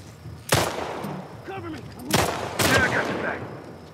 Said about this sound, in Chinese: 用枪打了